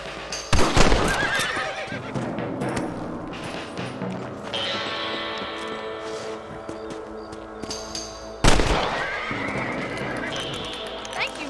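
A horse neighs loudly in the Red Dead Redemption video game, whinnies standing out near the start and again later, mixed with hoof clip-clops, thuds and other in-game sounds while a voice speaks.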